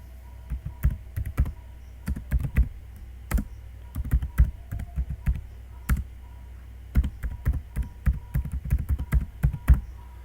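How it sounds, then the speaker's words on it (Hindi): Keys clatter on a computer keyboard as text is typed into AutoCAD, arriving in quick irregular bursts of crisp clicks with short pauses between them, close and fairly loud, with no one talking. "अब यहाँ पे तुम टाइप करो"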